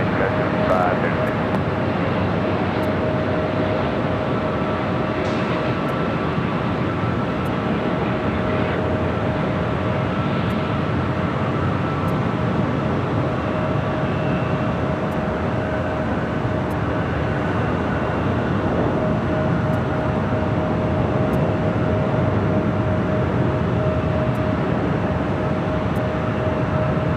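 A heavy Airbus A330 jet comes in to land on runway 24 right at LAX, a steady broad roar that holds loud and even throughout, with radio voices talking over it.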